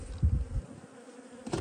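Honeybees feed at a hive in the Peruvian sierra, a close, steady buzzing drone, with a few louder bursts as single bees pass near.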